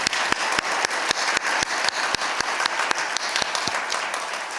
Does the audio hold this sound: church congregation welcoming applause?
yes